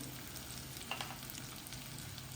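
Smashed potatoes fry in a hot pan with a steady, faint sizzling hiss and a couple of soft stirring knocks near the middle.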